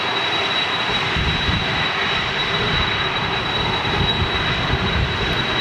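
A TUI airliner powered by Rolls-Royce Trent engines roars at Manchester Airport, a loud, broad, steady jet rumble with a thin high whine running through it.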